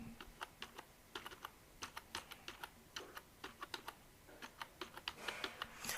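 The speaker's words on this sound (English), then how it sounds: "we are going to come over here and type Getting It Right" Fingers type a domain name on a computer keyboard, producing quick bursts of close, crisp key clicks with brief pauses between words.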